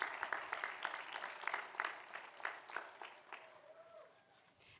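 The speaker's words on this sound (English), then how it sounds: "So let's give these amazing people in your lives a heartfelt round of applause." Audience at a Quinnipiac University School of Health Sciences graduation ceremony applauding the families, a faint, distant patter of clapping that thins out and fades over a few seconds.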